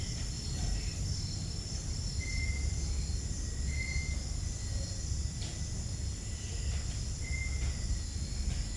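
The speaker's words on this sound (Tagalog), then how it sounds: "Tanging tunog ng yero at kuliglig lang ang ating maririnig." Crickets chirp steadily at night, a constant dense insect trill with a few higher chirps on top; no one speaks.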